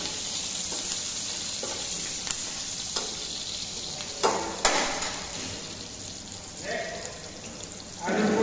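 A ginger-garlic and spice mixture fries in a pan with a constant sizzle, broken by a few scraping stirs and brief surges of crackle, close and steady.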